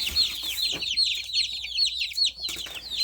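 Newly arrived meat chicks in a brooder on a chilly day peep constantly in rapid, overlapping high chirps, close and clear with no talk.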